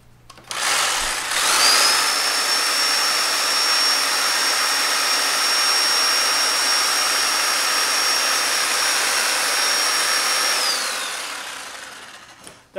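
A 3.5 amp jigsaw powered by a Jackery portable power station whines loudly and steadily for about ten seconds at a constant pitch, then winds down as it stops.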